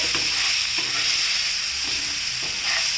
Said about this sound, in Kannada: ಈ ಎಣ್ಣೆ ಒಳಗೆಲ್ಲ ಇದು ಮಿಕ್ಸ್ ಆಗೋ ಹಾಗೆ ಮಾಡ್ತೀನಿ